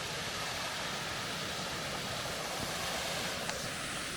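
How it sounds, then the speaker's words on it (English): Sydnope Brook spills over a small waterfall, giving a faint, even hiss of falling water that stays constant and distant-sounding, with no voices. "Look at this, this is Sydnope Brook, this waterfall."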